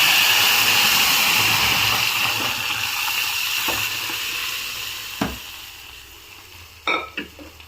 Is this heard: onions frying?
yes